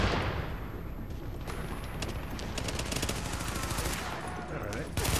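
Dense gunfire from a firefight in the video game The Division, with rapid overlapping shots and bursts rattling continuously and loudly throughout, packed with sharp reports and a brief louder blast near the end.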